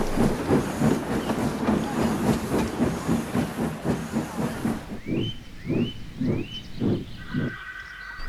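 A steam locomotive on a railway puffs in a steady rhythm of loud hissing chuffs, then slows to a few separate bursts of steam with faint squeaks between them.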